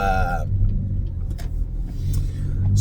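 A car pulls away from a green light at a road intersection, its engine giving a low, steady rumble heard from inside the vehicle.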